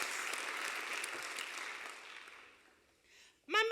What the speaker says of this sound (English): Let's give these men and their advisors another round of applause.